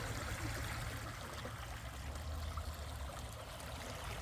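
Water trickling from a metal tube into a channel outdoors on a nature walk, a steady soft splashing flow with broadband outdoor noise throughout, no voices.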